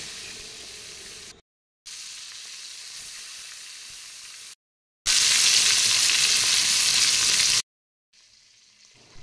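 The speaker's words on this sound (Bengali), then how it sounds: "একটা কড়াইতে সর্ষের তেল দিয়ে তেলটা গরম হলে একে একে আমি মাছগুলো সব ভেজে নেব" Koi fish sizzle and spit in hot mustard oil in a wok, heard in several stretches broken by brief silences, with one especially loud, crackling burst in the middle.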